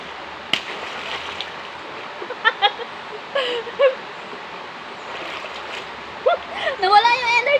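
Water splashes in a river during a handstand swim, with scattered bursts over a steady flowing-water background and people talking nearby.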